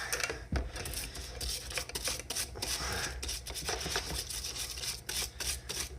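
A brush scrubs a surplus magazine spring with cleaner, giving a steady, close scratchy rasp with uneven strokes and small clicks throughout, no talking.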